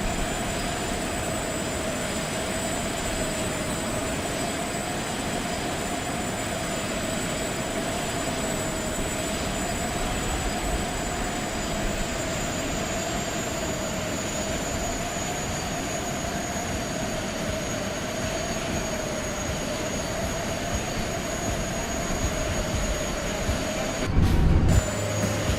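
Steady, loud airliner jet engine drone on landing approach in Flight Simulator X, a continuous whine with a low roar held evenly throughout, with a brief heavier rumble near the end.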